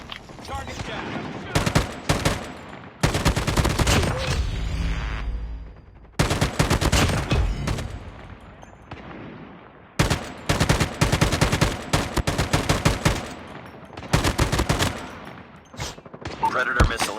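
Rapid gunfire bursts from the mobile shooter Call of Duty Mobile, loud and close, in repeated clusters of automatic fire separated by short pauses, with in-game voice callouts between volleys.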